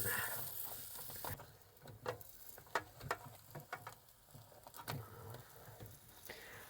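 Pork cooking in cider over a campfire on a coastal cliff, sizzling softly and steadily in the pan with scattered pops and crackles, close and fairly quiet with no talking.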